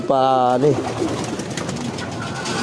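Pigeons coo in their loft, with one loud, close coo at the start followed by softer, overlapping cooing and rustling against a busy background.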